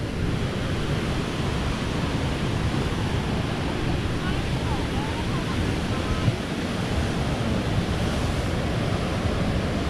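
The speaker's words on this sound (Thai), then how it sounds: "คือตรงน้ำตกที่มันไหลลง" Somphamit (Li Phi) waterfall on Don Khon in Champasak, Laos, roars as a constant broadband rush of falling water, loud and unbroken, with some wind buffeting the microphone.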